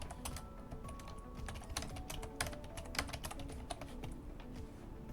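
Quick, steady keystrokes on a computer keyboard as a name is entered, crisp clicks close by and fairly quiet, with no talking.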